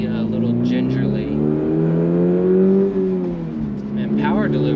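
A Toyota GR86 on a street drive revs up close, its engine pitch climbing, holding and then dropping as the car shifts and accelerates again, with someone talking over it.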